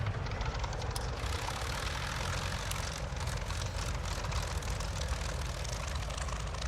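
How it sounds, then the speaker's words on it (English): A P-40F Warhawk engine runs in a flight simulator, giving a steady, dense rumble with a constant low drone and even roar throughout, fairly quiet overall and without talk. "And here we go, the engine is running."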